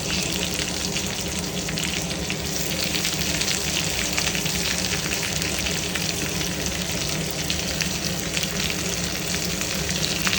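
Onion fries in a hot pan in a home kitchen, giving a dense, continuous sizzle like steady rain, close and even in loudness for the whole stretch, with no voices.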